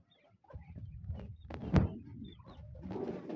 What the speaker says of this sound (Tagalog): Ang mga kalapati natin